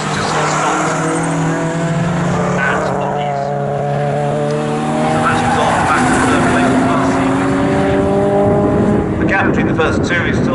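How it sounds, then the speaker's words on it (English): A BMW saloon race car at Snetterton circuit drones past with a steady rising and falling engine note, loud and continuous, while a commentator talks over it throughout. "The leading BMW goes over the line now to start his last lap"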